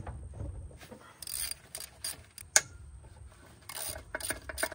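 A hand ratchet clicks in short bursts while loosening a bolt on the lower unit of a Suzuki 150 outboard motor, close and quiet, with metallic taps and a sharp clank between the ratcheting runs.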